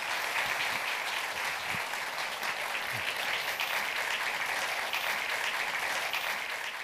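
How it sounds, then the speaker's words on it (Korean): An audience at a science forum applauds a Korean environment minister as he is welcomed to the stage, sustained, dense clapping from a large crowd that holds steady throughout. "큰 박수로 맞아주시기 바라겠습니다"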